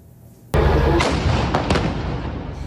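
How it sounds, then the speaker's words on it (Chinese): Israeli tanks fire on distant buildings in Gaza: one sudden, loud blast breaks a quiet background, then a rolling rumble follows with a few further sharp cracks as the roar slowly fades. "强大火力毫不留情猛轰远处建筑。"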